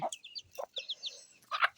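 Chickens in a small backyard flock cluck close by in a short, quick run of repeated calls, with a few sharper squawks at the end.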